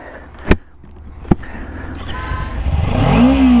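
A Kawasaki Ninja 300 motorcycle engine starting with a couple of sharp clicks, then idling and climbing into a rising rev with a high whine, close and steadily louder, no voices.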